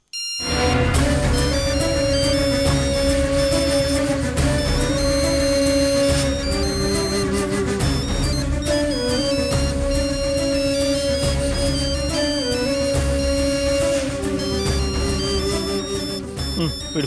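A mobile phone in a home plays a loud melodic ringtone close by, its repeating electronic tune sounding continuously for several seconds before fading slightly toward the end.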